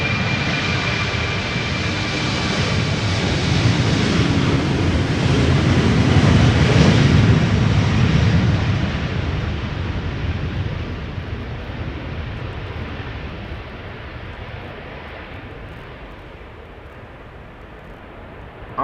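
A German Airways Embraer 190 jet bound for Aalborg roars down the runway at Schiphol's Polderbaan, a loud broadband engine rumble that swells at its nearest point and then slowly fades as the plane climbs away.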